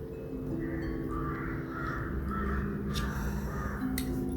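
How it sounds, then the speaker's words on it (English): Several crows cawing loudly, a series of about five or six harsh caws in an even rhythm, fairly close, over a steady low background hum. "Can you hear the crows?"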